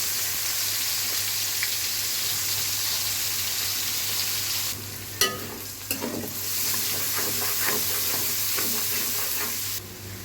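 Chopped onion with cardamom, cinnamon and bay leaf fries in hot oil for chicken roast, a continuous close sizzle broken by a few sharp stirring clacks.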